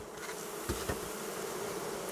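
Honey bees buzzing at a hive as a beekeeper moves them off the combs before harvest, a dense close hum with a couple of brief louder passes, no voices.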